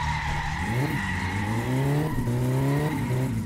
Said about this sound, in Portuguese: Quando o carro começa a derrapar, ele derrapa muito